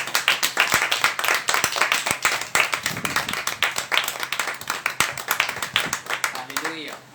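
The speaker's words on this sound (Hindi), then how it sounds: "आइए हम परमेश्वर के दास के लिए और पिता पुत्र पवित्र आत्मा के लिए एक बार फिर जोरदार तालियां बजाएंगे" Church congregation clapping loudly and rhythmically, a dense run of hand claps throughout, with voices speaking and calling out over it.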